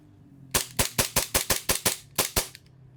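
Army Armament Staccato 2011 gas blowback airsoft pistol firing about ten sharp, evenly spaced shots in a quick steady rhythm, a short pause, then two more, loud and close with no talking.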